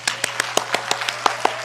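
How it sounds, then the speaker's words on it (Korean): A church congregation at a Sunday afternoon praise service gives a brisk round of applause, sharp rhythmic claps landing about every fifth of a second, close and clear over a steady low electrical hum. "정말 우리를 대신해서 정말 수고했다고 한번 소나기 박수 한번 해주겠습니다"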